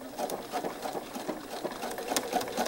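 A sewing machine top-stitches around a welted pocket with a quick, even patter of needle strokes. The sound is quiet but continuous throughout, with no voices.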